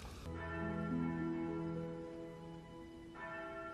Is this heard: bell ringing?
yes